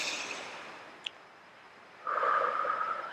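A slow, deep breath drawn in and let out, soft and close, with a steady airy rush rising in the second half and no talk.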